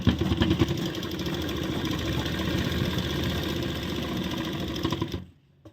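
Sewing machine running steadily while stitching a seam on an umbrella plazo, a dense continuous mechanical whir and needle clatter close up, stopping abruptly near the end.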